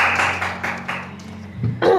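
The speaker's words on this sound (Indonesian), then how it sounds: "tepuk tangan dulu, tepuk tangan" A short burst of applause in a podcast studio, a run of soft, quick hand claps at close range that fade out within a couple of seconds, followed by a brief voice.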